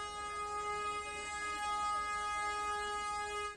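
A meter gauge train pulls out of Bahraich railway station with a long, steady horn blast that holds loud and unbroken throughout over a low rumble.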